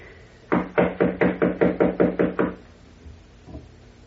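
A longer run of about nine quick, evenly spaced knocks on a door from a radio drama sound effect sounds close and loud, then stops, leaving a faint thump and near silence.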